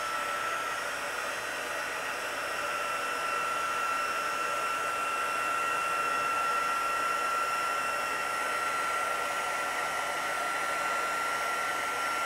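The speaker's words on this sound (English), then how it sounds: "This is just from a heat tool that I had. So I'm going to come back here and heat." A heat tool used for paper crafting blows hot air in a steady, continuous whoosh that stays at an even level throughout, with no talking.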